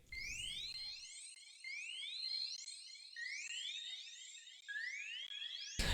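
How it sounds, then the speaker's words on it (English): A high, bright synth line of repeating rising glides, washed in long echoes and a lingering tail that stack and overlap, fairly quiet throughout. "It just gives it a whole bunch of reverb and delay."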